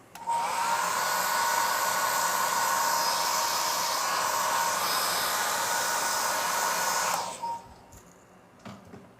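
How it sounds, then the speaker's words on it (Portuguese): A hair dryer drying watercolor paint blows with a steady, loud, close whooshing roar for several seconds, then switches off, leaving faint handling sounds. "Vamos usar o secador aqui para agilizar."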